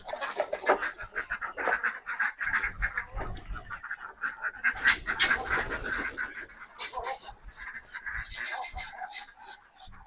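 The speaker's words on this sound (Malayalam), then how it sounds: "നമുക്ക് കോഴിക്കളെ വിടാം." Backyard chickens cluck and squawk after being let out of their coop, with ducks nearby. The calls are busy and overlapping, some near and some farther off, and they continue steadily throughout.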